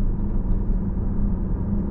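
A Porsche Panamera with tuned suspension pulls through a slow curve on a race track, its engine a loud, continuous low roar and rumble heard close from inside the car, with no voices.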